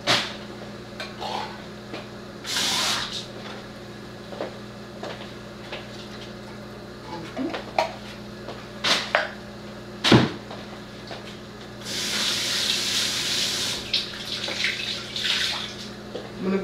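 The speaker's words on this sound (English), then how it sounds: "Let me go ahead and rinse these cans out." Cans are rinsed under a running kitchen faucet, with bursts of gushing water and sharp metallic clanks and knocks of the cans in the sink, the last water burst longer.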